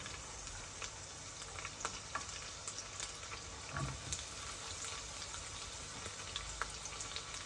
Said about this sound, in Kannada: ಈ ಗಾರ್ಲಿಕ್ ಸೌಂಡ್ ಮಾಡೋಕ್ಕೆ ಸ್ಟಾರ್ಟ್ ಆದರೆ ನಾನು ಬಾಕಿ ಗಾರ್ಲಿಕ್ ಎಲ್ಲ ಹಾಕೋತೀನಿ